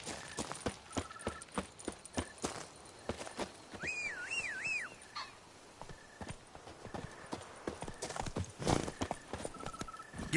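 A horse galloping in The Witcher 3 video game, with rhythmic hoofbeats throughout, a brief whinny partway in, and a few soft game tones in the background.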